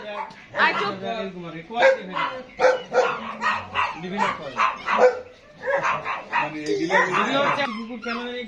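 Local street dogs bark and yelp in repeated bursts, fairly close and loud, with voices mixed in among the barking.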